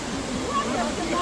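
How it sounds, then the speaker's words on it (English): An indoor waterfall at the Cloud Walk in Singapore roars as a loud, steady rush of falling water, continuous and broadband, with faint voices underneath. "Yeah, that is the waterfall,"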